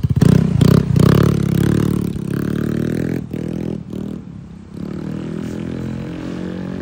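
A Yamaha Mio Gear scooter fitted with a KVIN power pipe exhaust is out on a test drive. It gives a loud, close engine drone with rising revs, rattles and road scrapes throughout.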